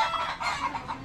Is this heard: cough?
no